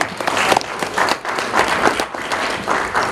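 Steady applause from an audience at a jewelry exhibition and seminar in Abuja, dense overlapping clapping for about three seconds with slight swells.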